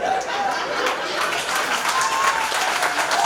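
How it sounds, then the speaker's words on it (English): A studio audience claps in a loud, dense burst that holds steady throughout, with a few voices mixed into the applause. "I guess you'll have to edit the applause."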